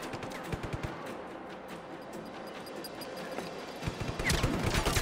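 Rapid gunfire bursts from the video game Just Cause 3, with repeated sharp shots near the start and a denser, louder volley toward the end over a steady background of game noise.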